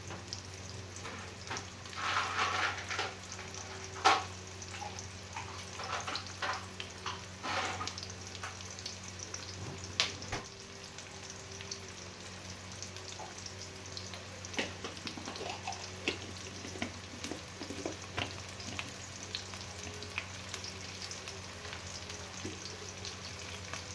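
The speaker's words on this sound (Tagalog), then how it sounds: "Hintayin po muna natin na maluto po yung sibuyas bago po ang bawang." Sliced onion frying in a pan for stir-fried bitter gourd, a faint, steady sizzle with scattered soft crackles and pops, heard alone without talk.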